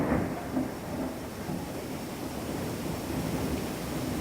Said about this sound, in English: that rain just keeps coming down